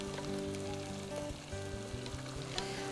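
Garlic sizzles and fries steadily in a hot pan for a Congolese green-vegetable dish, a constant crackling hiss with faint stirring, close and moderately quiet, no voices.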